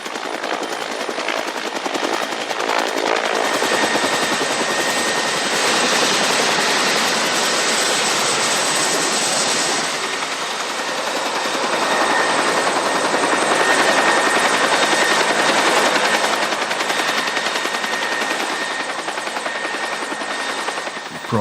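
A helicopter setting down in a small cleared patch of jungle makes a loud, continuous rotor roar and turbine whine that holds steady for about twenty seconds, swelling slightly near the middle.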